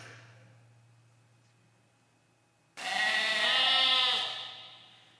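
A sheep bleats once, a single drawn-out wavering cry heard clearly after a near-silent start, close and fairly loud before fading out.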